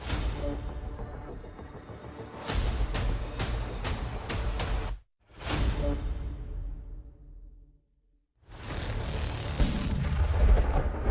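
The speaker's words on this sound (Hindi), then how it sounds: "ये धमाका, ये धुआं चीनी मिसाइल का है" A series of heavy booms and blasts from a Chinese missile coming down in a field, several sharp bursts in quick succession, then a brief silence before another loud rumbling explosion and roar.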